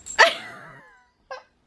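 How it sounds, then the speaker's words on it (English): Excited puppies at home, one sharp close bark trailing into a whine, followed after a short gap by a brief high yip. "we've got sitting puppies who are very excited right now"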